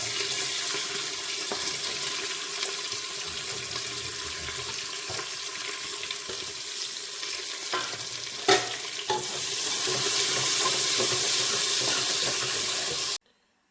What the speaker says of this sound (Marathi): जे मसाला टाकला आहे तो आता थोडासा त्याला आपण परतून घेणार आहोत. मिरची टाकू आता, त्यासोबत आता कांदा.